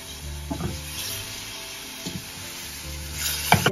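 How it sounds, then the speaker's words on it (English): Unsalted beef stock meets a cooked flour mixture in a pan for Salisbury steak gravy. A steady sizzle continues with a few brief stirring and scraping knocks, the last one near the end. "Now I'm going to add 3 cups of unsalted beef stock."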